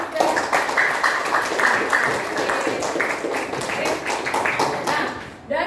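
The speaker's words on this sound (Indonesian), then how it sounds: "Tepuk tangan dulu buat kita yang sudah" Classroom of schoolchildren in Yogyakarta clapping together after a discussion, a steady run of many hands at a fairly quick, slightly uneven rhythm, near and loud for about five seconds before tapering off.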